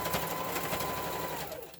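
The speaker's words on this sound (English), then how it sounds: "now we're back at the sewing machine, and we're going to sew our hems on the end" A sewing machine runs steadily, a fast rhythmic whirring stitch that holds even and slows to a stop at the end, close by.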